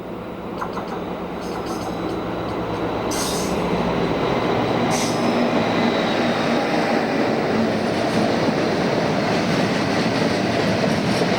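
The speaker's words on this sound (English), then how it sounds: "60045 heads a loaded coal train from Ayr bound for Eggborough Power Station." Loaded coal train hauled by locomotive 60045 on its way from Ayr to Eggborough Power Station, loud, close rumble of wagons and clattering wheels with high squeals early on, growing into a steady heavy roar.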